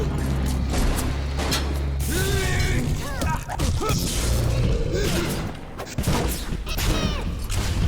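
Enemy gunfire aimed at the player in the 2007 video game BioShock, in the Arcadia area: loud bursts and clattering mechanical shots over a dense, busy game soundscape with a low hum throughout.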